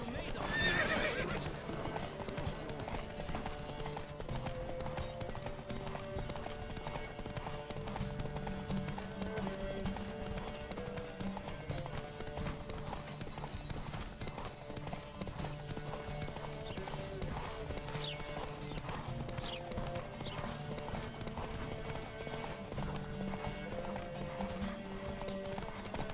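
Rapid hoofbeats of a galloping horse in The Witcher 3: Wild Hunt run continuously over music and game sounds, with a whinny early on and speech mixed in.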